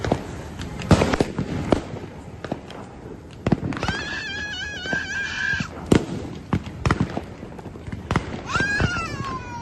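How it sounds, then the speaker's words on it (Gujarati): Diwali firecrackers crack and pop in a string of sharp bursts during a home celebration, with a cat meowing in between and light movement nearby. "એને મજા આવી ગઈ હા ફટાકડા ફોડવાની"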